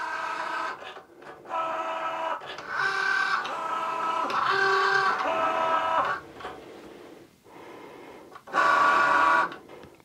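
A Cricut Joy cutting machine works through its final cutting stage with the blade fitted, whirring in tonal motor bursts that start and stop in uneven runs, close and fairly loud, with a louder whine near the end.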